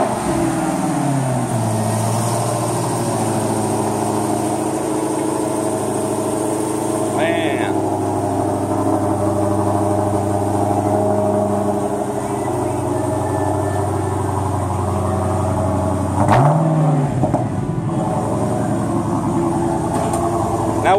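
A Dodge Hellcat's supercharged V8 idles with a steady low rumble, and a brief rev swells up near the end while people talk nearby over the running engine.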